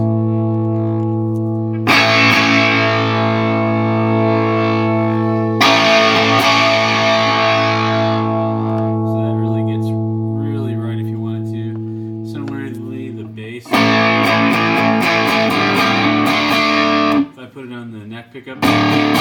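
An electric guitar rings through a Colorsound Overdriver pedal, sustained chords decaying slowly, then a few picked notes and more heavily distorted strums.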